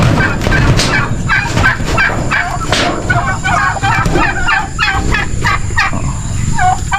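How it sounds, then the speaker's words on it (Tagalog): A flock of chickens making dense, continuous clucking and gobbling calls, close and loud, with faint voices mixed in, on a farm. "May mga manok din tayong"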